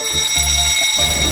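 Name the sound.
fire alarm ringing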